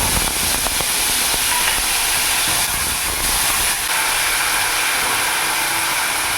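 Ground spice paste hits hot oil already seasoned with cumin seeds and bay leaves for a soybean dish, giving a loud, steady broadband hiss of sizzling that holds on throughout with slight surges.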